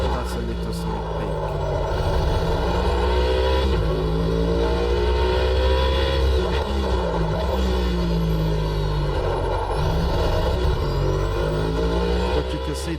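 Porsche GT3 race car engine in Automobilista 2 drones continuously, rising and falling in pitch through gear changes and throttle lifts, with someone talking over the steady mechanical roar.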